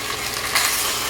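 A short burst of curry chicken wing marinade sizzling in a hot pan, a bright crackling hiss that swells briefly halfway through, with no talking.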